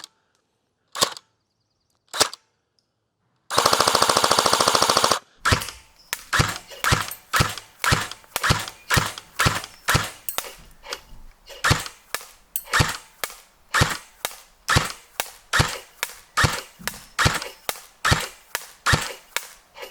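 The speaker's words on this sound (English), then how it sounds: "let's go ahead and get this guy all powered up and see how it shoots" An airsoft electric gun powered by a 7.4 volt LiPo battery fires two single shots and then a short full-auto burst, followed by a long run of sharp, evenly spaced semi-automatic shots, loud and close with no talk.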